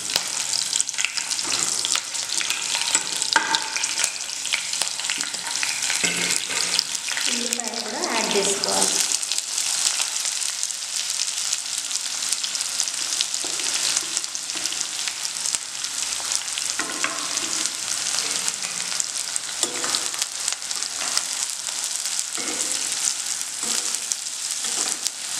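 Green chillies fry in hot oil in a pan for a curd brinjal curry, giving a continuous loud sizzle with bursts of spattering and stirring throughout.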